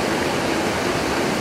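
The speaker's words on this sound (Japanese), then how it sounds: "雨なんで増量しちゃってて、水がね、川の水が" A fast-flowing river swollen by rain beside a campsite on the Doshi road roars loudly and constantly in a dense, close rush of water with no voices.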